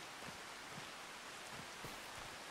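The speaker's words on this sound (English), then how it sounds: "It is raining out" Steady rain falling in Farming Simulator 25, a soft, even hiss of drops that continues unbroken at a quiet level, with no other sounds standing out.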